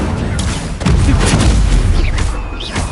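An Incendio fire spell cast in the video game Hogwarts Legacy bursts out as a loud, booming, rumbling blast that swells after a brief build and keeps roaring with crackling fiery texture throughout.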